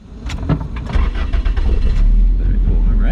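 A Toyota MR2 SW30 with a six-speed manual cranks briefly and starts right up, settling into a loud, close idle rumble.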